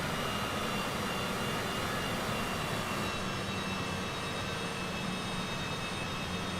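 Citation CJ4 business jet engines run in a flight simulator game, a loud, continuous broadband roar with a steady high whine, unbroken throughout and with no voices.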